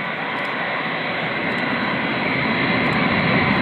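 A B-52 bomber taking off and gaining speed, its loud jet engines a broad, steady roar that holds close and constant with no voices over it.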